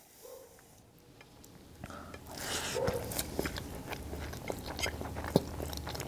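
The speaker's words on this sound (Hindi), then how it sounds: "अबे पहली बाइट" Someone takes a first bite of charsi mutton karahi with naan. Soft crunching and chewing sounds come close to the mic. They are faint and set against low room noise with some light clatter.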